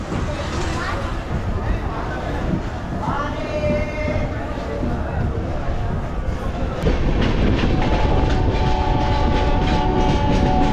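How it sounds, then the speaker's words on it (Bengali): A superfast express passenger train pulls out of Gondia Junction with a loud, continuous rumble and wheel clatter, heard from on board, growing heavier and more rhythmic partway through. "দু মিনিট স্টপেজ দিয়ে আবার এই স্টেশন থেকে আমাদের ট্রেন ছেড়ে দিল"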